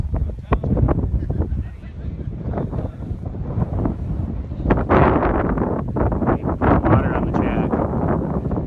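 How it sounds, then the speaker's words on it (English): Gusting wind buffets the microphone at an outdoor drag strip during a Pro Mod racing event, a steady loud rumbling roar that swells stronger midway, with some background chatter. "The wind is kicking up."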